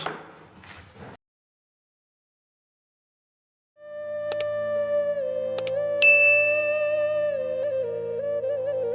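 Short speech-like sounds open, then after a pause a bright electronic notification bell rings out with sustained ringing tones and repeated chime strikes, loud and close.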